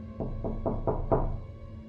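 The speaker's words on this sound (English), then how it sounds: "there was a knock at the door" Five evenly spaced knocks on a door, dull and close, steadily growing slightly louder over a low hum, with no voices.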